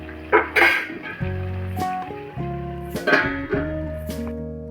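Metal clinks and clatters of a lid being set over a pan of chicken on a stove, a few sharp knocks followed by ringing tonal resonance, with steady sizzling underneath.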